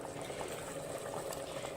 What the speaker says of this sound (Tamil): இப்போ நல்லா கொதிக்குது பாருங்கள்.